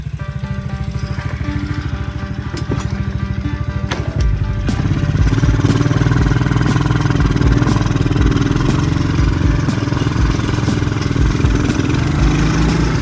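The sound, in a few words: Apollo Commander 125cc scooter engine running and bogging down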